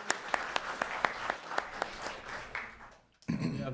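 An audience at a city council meeting claps in a brisk, fairly steady rhythm of distinct hand claps, moderately close, for about three seconds before it stops and a voice starts.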